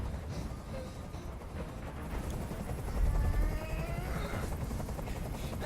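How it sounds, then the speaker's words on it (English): Helicopter hovering overhead in Detroit: Become Human, a steady heavy rotor drone filling the whole stretch and swelling briefly in the middle, with faint game sounds and no clear speech. "I can't stand that noise anymore. Tell that helicopter to get out of here."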